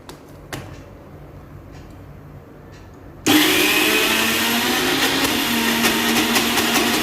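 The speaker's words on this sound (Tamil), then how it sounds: "இதில் தண்ணி விட்டு திருப்பி நான் அரைச்சிக்கிறேன்." An Ultra Mixie mixer grinder starts up with water added to the jar, snapping from quiet handling clicks into a loud, steady high-pitched motor whine and churning grind.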